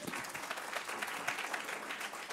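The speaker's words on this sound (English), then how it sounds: "round of applause." Audience applause at a panel event on exploited refugees and migrants, steady dense clapping from a room of people, moderately loud and continuous throughout.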